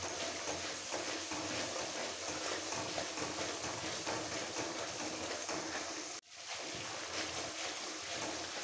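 Spices with coriander powder sautéing in a pan for palak paneer, a steady broadband hiss and sizzle throughout with a brief drop partway, fairly faint and continuous without talk.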